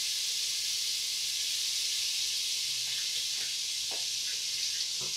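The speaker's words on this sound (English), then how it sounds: "We're going to add a little bit of oil because that'll help stop the butter from burning." Butter and a little oil sizzle in a preheated pan over turned-down heat, a steady bright hiss running throughout with a few faint pops near the end.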